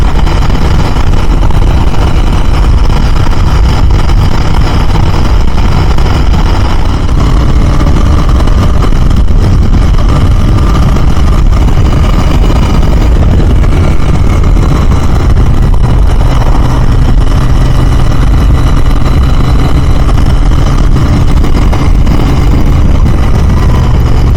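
A Royal Enfield Continental GT 650 motorcycle engine runs steadily while being ridden, with a loud, continuous mid-range drone and wind rush throughout and no talk.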